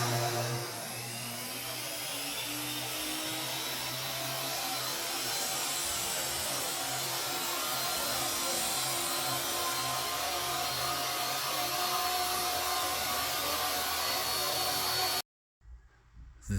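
A saw cuts wooden trim boards for a basement gym, giving a loud, steady whirring roar that holds for about fifteen seconds before cutting off abruptly.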